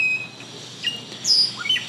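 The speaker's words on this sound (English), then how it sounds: "With the birds." On a morning in Mexico, a few birds give short, bright chirps and whistles in an otherwise quiet outdoor setting. The calls come in scattered bursts at moderate distance, with no talking.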